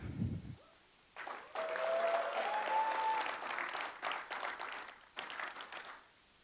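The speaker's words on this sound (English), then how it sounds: "I wanted to give a round of applause and thanks to them" A conference town hall audience gives a round of applause for the planning committee, with clapping that swells after a brief spoken moment and then fades in waves.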